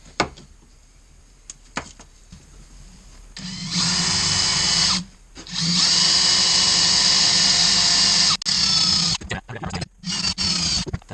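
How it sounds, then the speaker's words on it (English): A power drill bores holes through a plastic cutting board, giving two long, loud, close bursts of whining drilling separated by a short pause, with clicks and handling knocks around them. "So hold the drill straight, hold it square, and let's get it done."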